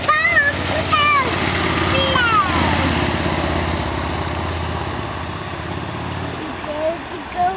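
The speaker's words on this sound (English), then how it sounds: "here comes the motorcycle. He's gonna fly through the mud." A motorcycle engine drones through mud and flood water with splashing, heard alongside the excited voices of people talking and calling out nearby.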